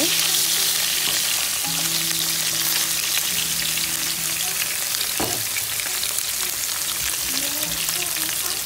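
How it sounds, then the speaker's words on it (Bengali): Fish frying in oil in a pan, a continuous dense sizzle and crackle held at steady loudness, with low background hum and a brief clatter partway through. "এভাবে করে সবগুলো মাছ আমি ভালো করে ফ্রাই করে নেব"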